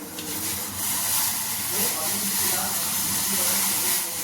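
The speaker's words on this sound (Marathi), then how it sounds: "आता पाणी उकळे, मी चहा पावडर टाकते." Water comes to a boil in a pot on a home stove for masala chai, giving a steady broad hiss and bubbling rush that stays loud and even throughout.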